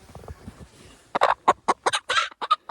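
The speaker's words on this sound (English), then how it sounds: "You can see this chicken right here." A badly molting hen near a snowy backyard coop clucking in a quick run of sharp, loud, close calls after a quieter low murmuring stretch.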